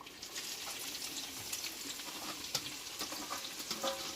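Onion fries in very hot oil in a kadai wok, a continuous soft sizzle and crackle with occasional louder pops, steady and close with no talking.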